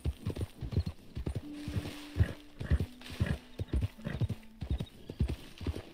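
Horse hooves clip-clopping at a steady trot while riding in Red Dead Redemption 2, close and rhythmic, with a brief whinny-like tone partway through and no talking.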